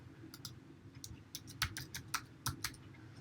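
Fingers typing on a computer keyboard while entering sample data, producing a quick run of light, irregular key clicks that are close and clear with no talk.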